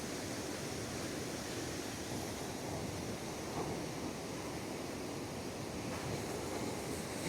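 Falling water from the overflowing Orós reservoir spillway, a steady, broad, rushing roar that holds constant throughout, with no voices.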